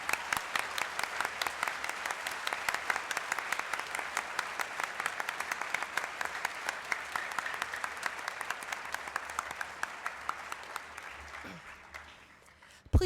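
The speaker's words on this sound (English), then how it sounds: "please give another round of applause to our guest speakers for today's" A school assembly audience on Veterans Day applauds its guest speakers with sustained, dense clapping that rises and then tapers off near the end, with no voices over it.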